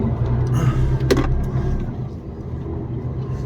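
A truck pulls away after a barrier lifts at a checkpoint on a short run in Poland, its engine rumbling close and loud with a brief rattle early on, then settling into a steady drive.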